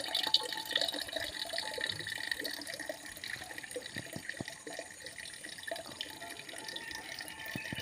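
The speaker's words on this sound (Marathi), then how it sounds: "ही पाण्याची एवढीशी धार पडतीये" A thin stream of water trickles from a village tap into a water pot. The faint, steady splashing continues throughout without pause, and no voices are heard.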